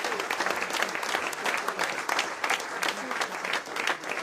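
An audience gives sustained, dense applause for an event's volunteer team and photographers at an evening gathering, a steady, loud wash of many hands clapping with faint voices mixed in.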